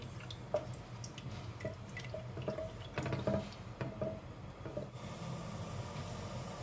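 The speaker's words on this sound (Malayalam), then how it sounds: "വെള്ളം തിളയ്ക്കാൻ തുടങ്ങിയിട്ടുണ്ട്" Water in a pot for biryani rice begins to boil, giving faint scattered bubbling pops and drips over a low simmering background, with no talk.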